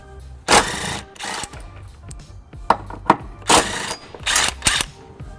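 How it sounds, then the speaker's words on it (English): A 14mm socket on a ratchet works loose the tow hook bolts on a 2003 Lexus RX300, giving several short bursts of rapid ratcheting clicks with small knocks between, close and alone. "I've got a 14mm socket, and I'm going to remove these 2 bolts"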